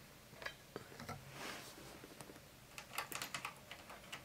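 Rapid typing on the keyboard of an electric typewriter that stores text on floppy disks, uneven bursts of crisp key clicks close by, alone without any talk.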